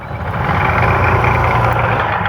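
A Hero XPulse 200 4V motorcycle idles close by with a steady, loud, low engine rumble, holding an even throb throughout with no talk over it.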